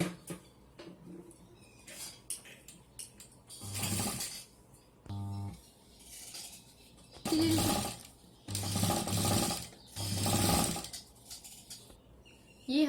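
A home sewing machine stitches a folded fabric hanger strip, running in several short bursts of rapid, whirring mechanical stitching separated by quiet pauses and a few light clicks and handling noises.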